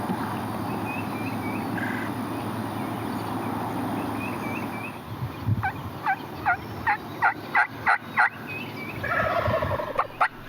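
Wild turkeys, two longbeard gobblers near a decoy, sound off outdoors with a run of about eight sharp, repeated gobbles in the second half, loud and close over a steady background hiss, followed by a final longer rattling burst.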